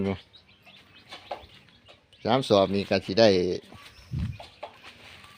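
Chickens on a small backyard farm, roughly ten to twenty birds of mixed sizes, cluck and call in short bursts close by, with someone talking over and between them.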